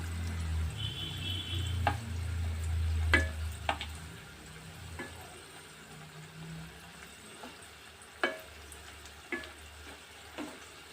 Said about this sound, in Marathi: भाकरवडी बरी तेलान अशी खरपूस भाजून घेवपाक जाय.